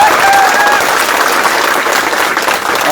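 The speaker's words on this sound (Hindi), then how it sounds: "तालियों की गड़गड़ाहट आपको सुनाई दे रही होगी" A large gathering of home guard personnel applauds, a loud, thick roar of clapping with a few cheers woven through it, close and continuous.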